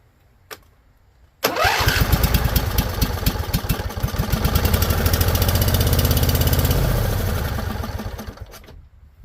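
Husqvarna Z254 riding mower engine on choke: a brief click, then the starter cranks and the small engine catches and runs loud and steady for several seconds before cutting off.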